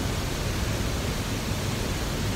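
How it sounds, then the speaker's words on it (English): The Devil's Cauldron waterfall at Baños in the cloud forest thunders as a loud, dense, unbroken roar heard close to its base, with no voices. "The sound of this waterfall is so strong."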